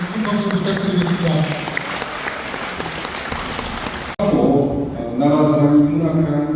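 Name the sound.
audience applause for the lecturer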